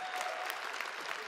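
Dense, steady applause from a large crowd at a university alumni awards event, continuous broadband clapping filling the room with no speech.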